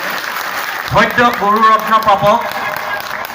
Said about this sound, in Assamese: প্ৰবল হাত চাপৰি অভিবাদন জনাব আপোনালোকে